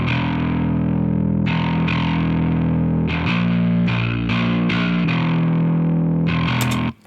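A bass guitar played through the default Marshall 800 preset in the Amplitude amp plugin gives a thick, heavily distorted tone, with a run of loud sustained notes that change pitch every second or so before cutting off abruptly.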